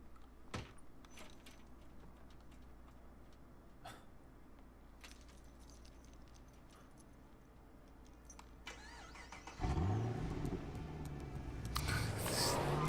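In the video game Quantum Break, keys jingle and small clicks come first, then a getaway car's engine cranks and turns over loudly near the end and settles into a running rumble.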